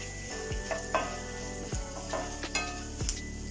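Chopped onions sizzle in oil in a pan while cooking for bun dosa, with a steady hiss broken by several low clunks of stirring against the pan.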